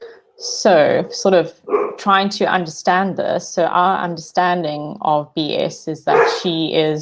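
A pet dog barks in the background, brief barks partly masked by a person talking steadily through the clip.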